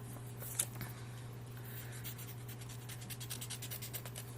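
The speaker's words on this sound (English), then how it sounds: "So I'm going to go ahead and cut that out." Scissors cut out a paper shape for an art project, a soft steady scratching and rustling of blades through paper, faint and close, with a low hum underneath.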